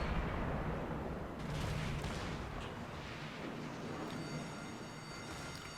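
Heavy naval guns fire in the World of Warships video game, a dense, continuous low rumble of overlapping booms that swells and eases slightly throughout, with no voices.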